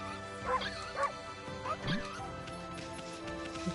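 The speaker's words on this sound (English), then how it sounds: "Hello, dog. I can also bark." A dog in the video game Okami barks several times in short, separate yips and woofs at moderate volume over quiet game background sounds, with a brief whimper near the end.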